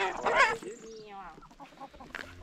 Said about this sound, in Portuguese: Miguel, pega uma galinha, quero ver, Miguel.